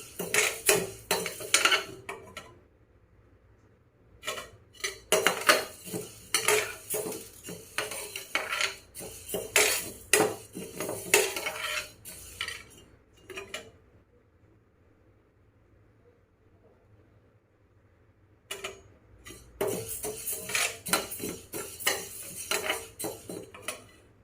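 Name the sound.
roasting and stirring grains in a kadai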